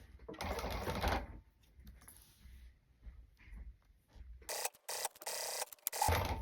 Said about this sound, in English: go ahead and start stitching